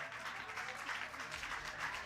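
An audience claps steadily and at a moderate distance in a courtroom television show about paternity disputes, a continuous patter of many hands with faint crowd murmur underneath.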